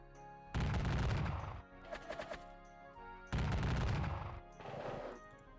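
Musket volleys in a Gettysburg battle wargame, two loud rolling bursts of crackling gunfire separated by a lull with scattered shots, no talk.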